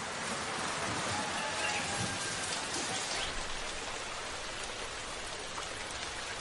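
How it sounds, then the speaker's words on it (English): Heavy monsoon rain pours down in India, a dense, constant patter and hiss of drops on surfaces, steady and enveloping throughout with no voices. "Life isn't easy during the season of the world's hardest rain, but it does make the crops grow."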